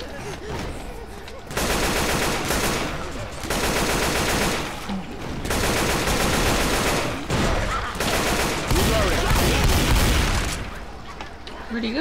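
Sustained, dense gunfire from Left 4 Dead 2 as armed players fend off a zombie horde on the bridge, rapid bursts running almost continuously for most of the stretch, loud and close, with voices talking over it.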